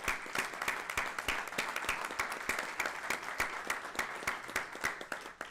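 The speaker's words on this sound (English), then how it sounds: "can we just please give all of these valued employees a round of applause?" Applause from an audience at a school district board meeting honoring long-serving employees: dense, steady clapping from a moderate crowd, sustained throughout at moderate distance.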